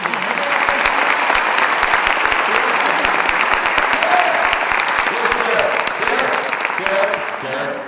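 Sustained audience applause at a school winter band concert, loud and dense clapping that continues steadily throughout, tapering slightly at the very end.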